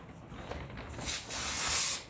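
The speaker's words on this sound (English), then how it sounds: "So I'm going to spray both this and the foam." Contact cement spray adhesive hisses steadily onto foam while a chair back is reupholstered, starting softer and swelling into a loud, continuous spray over two seconds.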